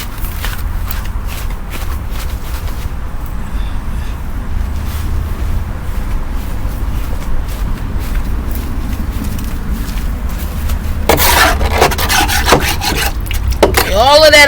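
A hand scraper rasps and rubs debris off a new lawn mower after rain, a steady close scraping texture throughout that grows louder and busier near the end.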